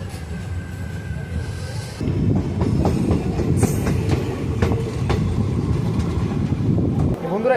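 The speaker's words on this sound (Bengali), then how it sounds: "গাড়ি ছেড়ে দিয়েছে আমবাড়ি ফালাকাটা রেলওয়ে স্টেশন থেকে।" Local passenger train pulling out of Ambari Falakata railway station on the New Jalpaiguri to Haldibari service, a steady rumble and wheel clatter that grows louder after two seconds and holds, with faint voices beneath.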